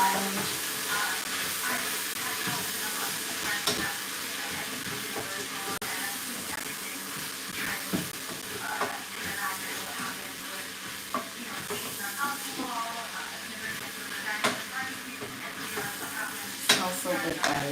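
Vegetable and beef stock being stirred into a pot of yellow split pea soup, a steady sizzling, bubbling wash with scattered scrapes and clinks of the spoon, close and continuous.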